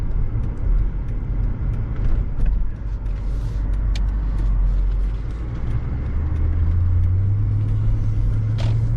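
Deep, steady rumble of a Mercedes AMG E55 Kompressor engine under acceleration, a low continuous drone that rises slightly in pitch toward the end, heard from inside the car with no talking.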